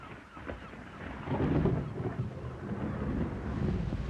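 Low rumbling thunder from an approaching electric storm rolls through a 1983 radio drama adaptation of an Enid Blyton sea adventure, swelling to a sustained, moderately loud growl with windy texture and no talk.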